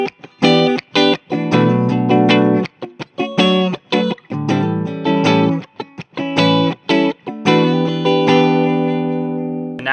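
A 1981 Gibson Sonex Artist electric guitar on its middle pickup plays through heavy distortion, loud choppy chords and riffs with short gaps between them, alone and with no talking.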